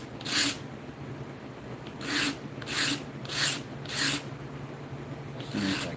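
A wooden pendant is sanded by hand with grit paper in five or six separate rasping strokes, close and evenly spaced, over a low steady background hum.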